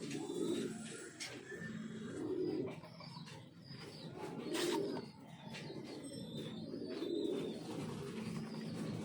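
Caged pigeons or doves coo in low, rolling phrases that recur every couple of seconds, close and moderately loud, with occasional light chirps and soft talk in the background.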